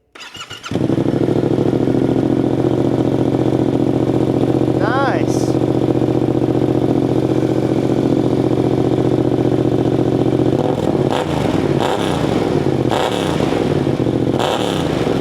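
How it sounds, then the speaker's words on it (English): A Yamaha Tenere 700 motorcycle engine with an exhaust insert fitted cranks and fires up loudly, idles with a steady throb, then revs in several sharp bursts; a voice speaks briefly. "So I'm going to fire the bike up once with the insert"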